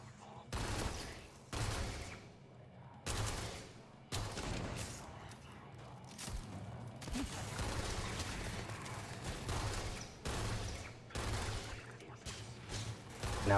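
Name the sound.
Spec19 laser pistol firing in video game Starfield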